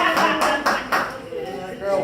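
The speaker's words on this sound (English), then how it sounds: "Can we give Ada a round of applause, please?" A few people at a real estate sales seminar clap in a short, sparse round of applause, individual claps close and distinct, with a voice speaking over them.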